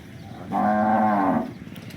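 A local Banaskantha cow at a cattle market lets out one loud, close moo lasting about a second, with quiet farmyard background before and after.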